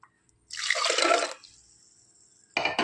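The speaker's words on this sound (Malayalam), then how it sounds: "ഒരു ഗ്ലാസ് വെള്ളം കൂടെ എടുത്ത് ഞാൻ ഇതിലേക്ക് ഒഴിച്ചു കൊടുക്കുകയാണ്" A glass of water is poured into a mixer jar while making jackfruit seed and drumstick leaf curry: a short splashing pour, quiet for about a second, then another brief splash.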